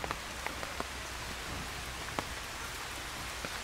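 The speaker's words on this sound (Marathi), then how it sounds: "लईच पाऊस लागायला लागला" Heavy rain pours down in a steady, close hiss, with scattered sharper drop taps standing out now and then; no one speaks.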